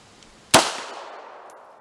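A single sharp Walther P.38 pistol shot fired double action at a range, loud and close, with a sudden crack followed by a long fading echo.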